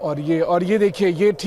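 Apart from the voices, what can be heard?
None of the usual background noises is heard.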